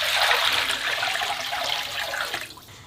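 Water poured into a pan of skinned chicken feet after frying sugar in oil, a steady broadband splashing rush that stays loud for nearly three seconds before tapering off, no voices.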